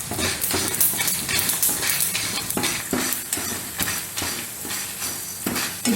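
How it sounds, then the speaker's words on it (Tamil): Dried red chillies and spices dry roasting in a pan, with repeated close scraping and clinking of a spoon against the metal over a light crackle, no talk. "அடுத்தபடியாக நம்ம எடுத்து வச்சுருக்கிற காஞ்ச மிளகாவை போட்டு"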